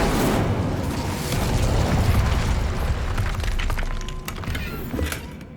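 An Incendio fire spell cast in Hogwarts Legacy, a dense rumbling whoosh of flame with crackling bursts that sustains for several seconds before tapering off slightly at the end.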